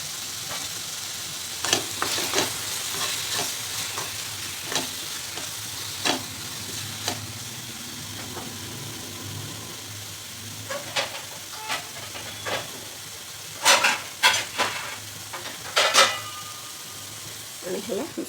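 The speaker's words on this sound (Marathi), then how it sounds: "आपल्याला फक्त तेलामध्ये असे फ्राय करून घ्यायचे." Brinjal sizzles steadily in hot oil with a pinch of salt, a constant close hiss. A spoon stirs the pan, making intermittent scrapes and clinks that cluster toward the end.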